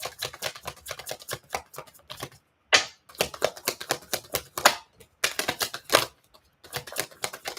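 A tarot deck shuffled and cards drawn, rapid close riffling flutters and crisp snaps in uneven bursts with brief gaps, no voices.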